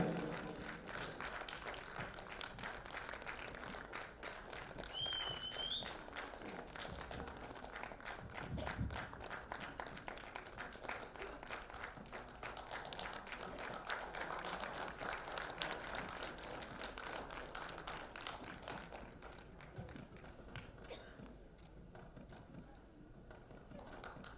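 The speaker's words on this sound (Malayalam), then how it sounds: "തീർച്ചയായിട്ടും നല്ല കയ്യടികളോടുകൂടി തന്നെ നമുക്ക് ഇവരെ പ്രോത്സാഹിപ്പിക്കാം." Applause from an audience at the Seawoods Malayali Samajam Onam celebration, a steady dense clapping that runs throughout with some murmuring and a brief thump partway through.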